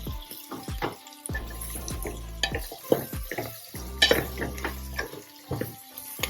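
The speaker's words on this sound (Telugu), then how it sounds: "కాలీఫ్లవర్ వేస్తున్నానండి." Cauliflower added to a frying pan for vegetarian biryani and stirred, giving repeated scraping, clattering stirs with a soft wet sizzle, close and moderately loud, with no talking.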